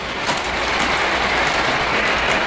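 A Polar Express model train rolls across a layout bridge toward the main line, giving a continuous, fairly loud rumbling clatter close by with no talking.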